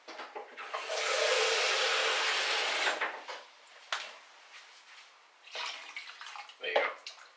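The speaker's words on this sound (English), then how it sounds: "I may need to add a little bit more water for that." Water poured into a soup pot for Lebanese chicken soup, a steady splashing rush lasting about two seconds, then scattered clatters and softer pours, fairly close.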